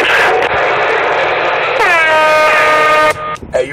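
A loud truck air horn blares close by over rumbling road noise, first a harsh broad blast, then a clear sustained tonal honk that cuts off abruptly near the end.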